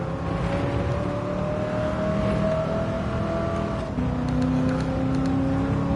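A car engine in Gran Turismo 7, played on a PS5 Pro with PSVR2, holds a loud, steady whining drone that climbs gradually, then shifts in pitch partway through as if changing gear.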